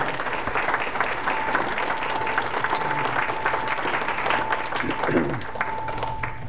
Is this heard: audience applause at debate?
yes